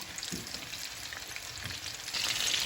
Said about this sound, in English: We're just going to fry them for about 4 or 5 minutes on each side